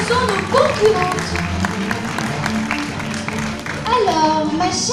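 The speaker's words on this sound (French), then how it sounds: "applaudissons nos concurrentes" A studio audience applauds female contestants on a French game show, scattered clapping mixed with lively talk and children's voices, fairly close and moderately loud.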